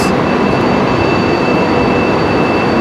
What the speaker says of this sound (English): There's a train here and my train is arriving soon anyway.